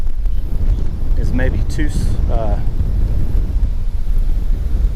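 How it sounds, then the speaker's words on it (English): Strong wind buffets the microphone during a fishing trip, a loud continuous low rumble throughout, with a person speaking briefly in the middle. "It's crazy windy out here."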